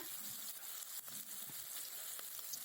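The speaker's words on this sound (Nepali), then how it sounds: "यो प्याजलाई चाहिँ हामीले मजाले चलाउनु पर्छ यो छुट्टिन्जेलसम्म" Faint, steady sizzling of onion frying in a pan, with soft intermittent stirring sounds.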